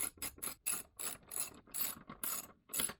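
A ratchet wrench clicks as it turns a bolt on a Mercedes W212 starter, about a dozen bursts of rapid pawl clicking separated by brief pauses, close and crisp, nobody speaking.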